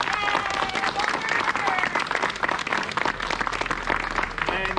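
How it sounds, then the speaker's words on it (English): Audience applause at an outdoor community cleanup day, a dense steady burst of many hands clapping for several seconds, close and loud. "Let's give him a round of applause."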